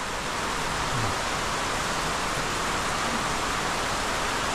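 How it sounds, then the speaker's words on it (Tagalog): Steady heavy rain pours onto a freshly painted house roof in a downpour, a dense, even hiss that fills the whole stretch without any break or voices. "Biglang umulan, may kasama pang kulog."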